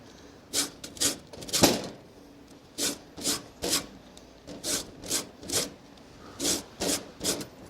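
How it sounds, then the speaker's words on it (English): A lemon is rubbed against a hand grater for zest, about a dozen evenly spaced rasping strokes close up, each a short scratchy swipe with brief pauses between. "I'm going to use the grater and we'll just get some lemon zest"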